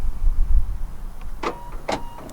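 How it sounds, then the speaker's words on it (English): Door locks on a 2017-2020 Nissan Pathfinder unlocking via a Viper Smart Start DS3+ remote system: two short, sharp mechanical clunks about half a second apart, close by over a low rumbling background. "Car unlocks, of course, you can hear it."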